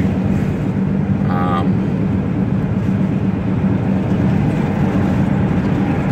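A living-in-a-van camper van drives along while a dash-mounted camera records, giving a steady, loud road rumble and engine drone inside the cab with no talking and a brief faint squeak partway through.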